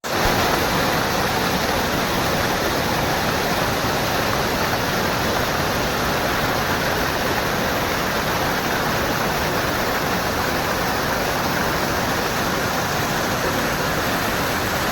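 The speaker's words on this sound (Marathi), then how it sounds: "ह्या दगडावरून सुद्धा पाणी वाहत असतं" Steady, loud rush of water pouring over rocks in a Konkan stream, a dense unbroken roar with no voices.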